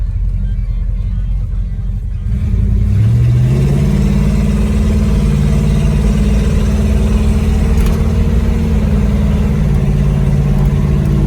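A 1969 Plymouth Road Runner engine hums steadily from inside the cabin, its pitch rising and settling as the driver shifts up through the gears.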